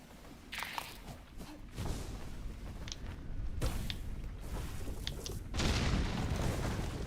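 Explosions in the video game Hollow Knight: Silksong go off as several dull booms and crackling bursts, mixed with steady game noise and scattered sharp impacts.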